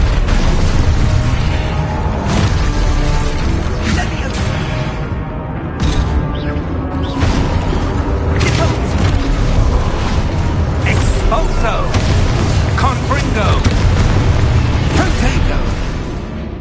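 Spell blasts and booms from combat in the video game Hogwarts Legacy on PS5, loud dense explosions and whooshes piling up continuously with game effects layered over them.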